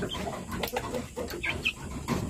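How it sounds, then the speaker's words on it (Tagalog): Plymouth Barred Rock and native crossbreed chickens in a backyard farm, soft clucks and brief chirps scattered over a steady hum of ambient noise, fairly quiet and distant. "Plymouth Barred Rock X native chicken."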